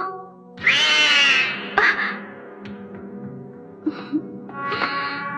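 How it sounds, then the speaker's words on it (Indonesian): A cat lets out a long, strained, oddly pitched meow, followed by several shorter, warbling cries, close and clear against a quiet background. "mendengar suara kucing kesayangannya yang terdengar sangat aneh"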